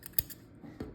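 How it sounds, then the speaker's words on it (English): Scissors snipping crochet yarn on a hat, two quick crisp close cuts a fraction of a second apart, quiet with no talking. "So now what we're going to do is we're going to make it into a tube. We only need the one to sew it up now, so I'm just going to cut here"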